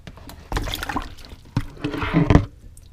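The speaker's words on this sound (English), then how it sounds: "you put them in a sink of cold water" Warm jars of home-canned tomatoes are lowered into a sink of cold water, giving splashing, gurgling and clinking in short bursts up close.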